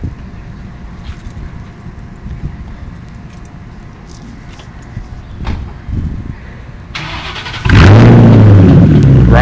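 A 1999 Ford Mustang with a freshly rebuilt upper intake cranks after a quiet stretch, then fires up and revs loudly and steadily close to the microphone.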